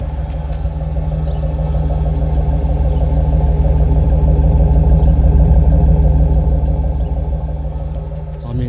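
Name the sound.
1992 Chevy Camaro RS engine idling with new exhaust tips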